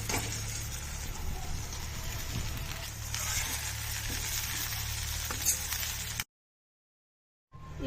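Rice with fried tomato pieces sizzles and crackles steadily in a hot kadai, with occasional stirring scrapes, close and continuous before cutting abruptly to silence.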